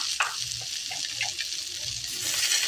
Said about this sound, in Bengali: আলুগুলো হালকা নাড়াচাড়া করে নেব।